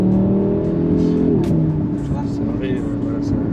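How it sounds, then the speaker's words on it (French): An Audi RS3 8Y five-cylinder engine rumbles and revs from inside the car, its low warbling tone shifting as the revs drop, with people talking over it. "Ça fait partie des moteurs mythiques de toute façon, le 5 cylindres"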